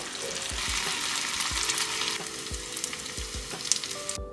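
A halved bread loaf sizzles and fries in hot fat in the same pan used for a French dip sandwich. The steady crackling sizzle runs continuously, with faint stirring or scraping knocks repeating underneath.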